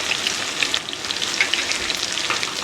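Spices and potatoes sautéing in oil for a fish curry with potato and pointed gourd: a steady, loud, close crackling sizzle with scattered sharp pops, no voices.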